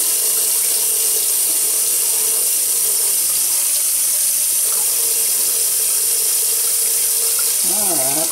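Hot water gushes steadily from a tap into a container, a loud continuous splashing rush filling the whole stretch, with a brief squeaky rise near the end as the flow changes.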